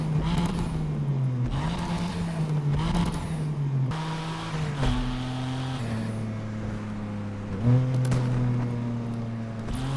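A stock BMW M2 engine in the video game Need for Speed Unbound revs up and down repeatedly, rising whine then dropping back to idle, loud and close with no talking.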